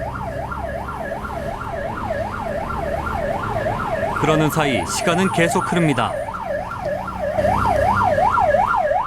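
A fire engine siren wails in a steady rising-and-falling cycle through city traffic in Busan, with a burst of horn blasts and a yelp partway through, while a narrator speaks over it.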